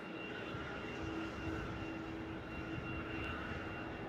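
A Qantas flight operated by Air Work lands at Melbourne Airport, a steady distant jet roar with a faint whine, constant and unbroken throughout.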